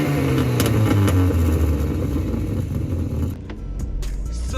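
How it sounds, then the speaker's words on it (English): A VW Golf MK1 with a straight-pipe exhaust idles and revs loudly up close with a deep, raspy drone, then drops off as the engine settles. "Listen to my exhaust."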